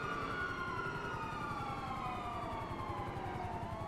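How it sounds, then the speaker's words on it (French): Siren in a video game, a wailing emergency-vehicle tone sliding slowly downward over a rumbling engine, steady and moderately loud with no talk. "Oh, le bruit de la sirène."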